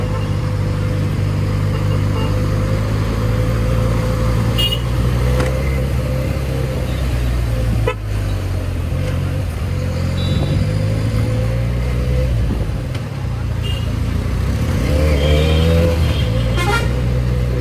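Road traffic in Madurai rumbles steadily past, a continuous low drone of engines from cars and motorcycles with occasional horn toots near and far, heard from a Benelli 300 motorcycle standing in the flow.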